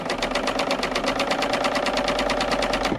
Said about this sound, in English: this is sewing beautifully. I'm going to sew a little bit more here